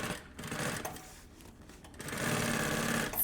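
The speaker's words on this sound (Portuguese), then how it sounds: "eu puxo esse forro e faço aqui uma costurinha bem na beiradinha" A sewing machine runs a short line of small stitches along the edge of a fabric lining, giving a steady mechanical whirr that pauses briefly and then resumes, loud and close, with no voices.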